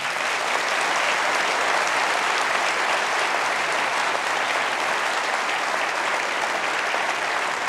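Theatre audience at the Riverside Theatre in Parramatta applauding after a national economic debate, a loud, dense and unbroken roar of clapping from a full house, even in level from start to end.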